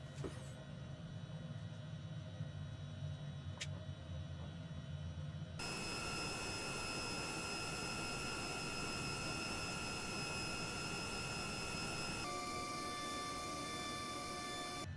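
HondaJet engines idling and whining steadily while taxiing in Microsoft Flight Simulator, a constant loud drone with high tonal hums that shifts in character twice as the view changes.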